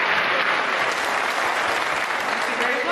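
Steady, dense applause from a wedding crowd clapping for the newlywed couple right after the ring exchange, sustained and fairly loud throughout with no break.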